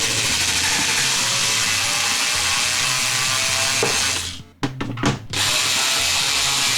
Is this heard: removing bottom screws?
yes